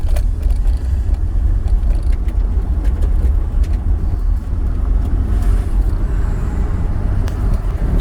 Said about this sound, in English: Just watching this truck.